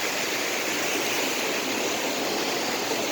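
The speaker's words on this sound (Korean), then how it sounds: "고덕천 하류의 물소리가 요란합니다" Rushing water of the Godeokcheon stream's lower reaches near where it meets the Han River, a loud, steady broadband roar that continues unbroken with no voices.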